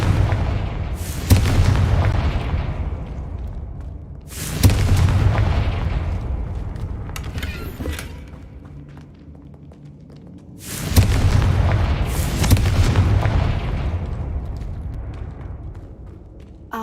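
Three big Confringo blasting-curse explosions in a Harry Potter video game, each a loud, sudden boom that trails off into a long rumbling decay, spaced several seconds apart with no talking.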